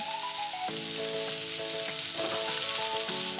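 Hakka noodles seasoned with crushed black pepper and salt fry with a strong, continuous sizzle as they are stirred in the pan, with music playing beneath.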